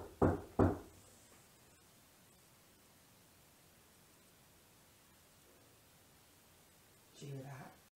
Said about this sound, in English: could you knock for us, please?